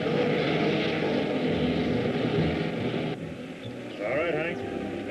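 A propeller aircraft drones overhead as it turns in to land in a 1952 film serial, a loud continuous engine hum that dips briefly near the end, with someone speaking over it.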